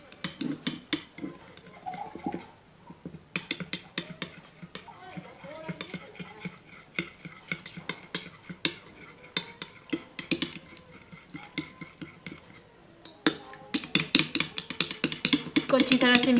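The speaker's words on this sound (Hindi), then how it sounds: "इसके बाद इस मिक्सचर को अच्छी तरह से कर लें मिक्स।" A hair mask mixture is stirred in a bowl, with repeated clinking and scraping strokes in an uneven rhythm, fairly faint and close, continuing throughout.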